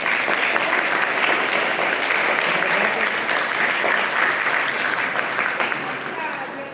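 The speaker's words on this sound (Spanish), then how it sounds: "Un gran aplauso a" An audience at a masterclass on quality testing gives loud, sustained applause, with dense clapping holding steady for several seconds before easing slightly.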